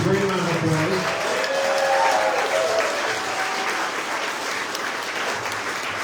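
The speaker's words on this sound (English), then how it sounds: "Let's give all our veterans a great round of applause." An audience at a political rally applauds veterans, a dense burst of clapping that fades gradually over several seconds with no one speaking.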